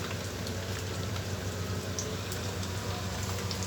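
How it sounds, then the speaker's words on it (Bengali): Fish fritters made from fish fat frying in a little oil, a steady fine crackle and hiss that stays even and close throughout. "এক পিঠ ভাজা হলে আমরা উল্টে দেবো"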